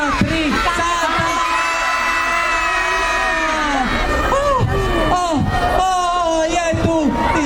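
Children at an outdoor Christmas event with a Coca-Cola truck shout for Santa in a loud, sustained group cheer, with excited high voices and whoops blending into a dense crowd roar.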